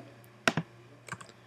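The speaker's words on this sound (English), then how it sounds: "So I pressed I on my keyboard" A few key presses on a Mac computer keyboard, two sharp close clicks followed by a softer pair, heard alone in a quiet room.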